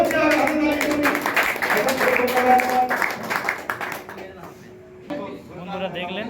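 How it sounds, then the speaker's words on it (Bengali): An audience claps at a pigeon club prize distribution for champion pigeons, a dense burst of applause mixed with voices and a sustained tone, thinning out partway through before a fresh swell near the end. "জোরদার হাততালি করুন।"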